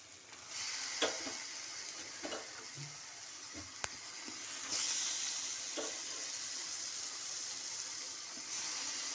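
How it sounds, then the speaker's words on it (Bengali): Chicken frying and being stirred in a spiced masala, a steady sizzle with scattered scraping strokes of a spoon against the pan, fairly quiet and close, with no talking. "চিকেনটা দেওয়ার পরে এখন ভালো করে কষিয়ে নিই"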